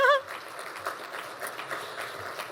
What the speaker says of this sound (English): give Miss EYJ a big round of applause